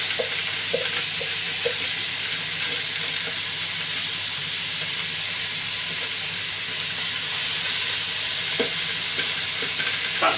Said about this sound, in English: as soon as they go in, you'll hear the sizzle